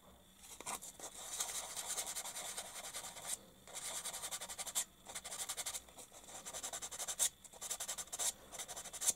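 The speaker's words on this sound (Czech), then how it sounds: "Takže to můžu taky přebrousit." Fine sanding of a part on a 1:48 Fiat CR-32 scale model aircraft, heard as quiet, close, scratchy rubbing strokes in steady bursts broken by short pauses, with no talking.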